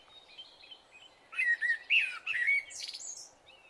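A cartoon bird chirps in a burst of bright, close tweets and trills, layered over a soft background hum with no talk.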